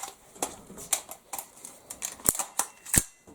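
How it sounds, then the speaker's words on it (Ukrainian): Metallic clicks from handling an AR-15 rifle at a shooting range, close and crisp, arriving as a rapid irregular run of small mechanical snaps with no talking. "Затворна затримка. Спрацювала."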